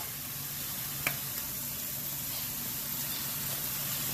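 Breakfast potatoes sizzle in a pan with a steady, soft hiss, faint and even throughout, with one brief click partway through.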